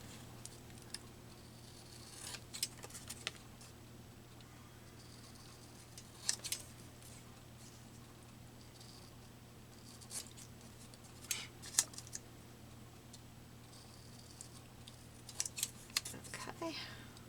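Scissors cutting a paper map for a junk journal collage, scattered quiet snips and paper rustles over a low steady hum, faint and close.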